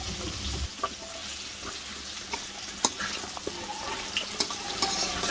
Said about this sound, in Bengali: এখন আমি সবজিটা দিয়ে দেবো।